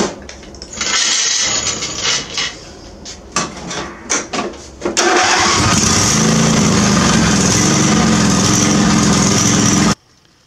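A Husqvarna Hydro lawn tractor cranks with a few sputtering, uneven bursts, then its engine catches and roars steadily and loudly up close for several seconds before cutting off abruptly.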